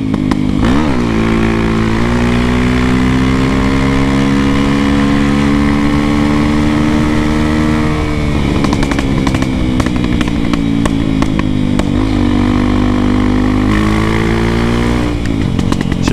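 Honda XR Tornado motorcycle with a large carburetor pulling in lots of air, its engine running loud and close throughout with a throbbing, rumbling note that rises and falls as the throttle is blipped, no talking.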